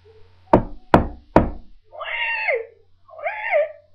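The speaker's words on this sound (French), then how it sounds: "Il frappe à la porte." Three sharp, evenly spaced knocks on a door, followed by two short vocal sounds.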